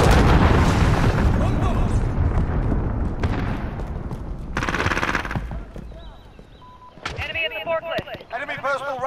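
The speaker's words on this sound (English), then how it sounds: "Allied cruise missile away." Dense, sustained Call of Duty: Modern Warfare battle noise: rapid gunfire and heavy booms from a cruise missile strike, with a loud broadband blast midway, then choppier bursts and electronic game sounds near the end.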